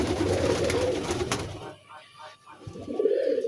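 Pigeons cooing at a loft as birds emerge one by one, low throaty coos coming in and out amid rustling and faint background noise, with a soft voice briefly present.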